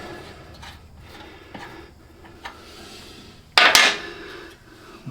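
A bolt pulled from a Cub Cadet transaxle gives several light metallic ticks and taps, then one loud, close scraping clank of about a third of a second, followed by quieter handling.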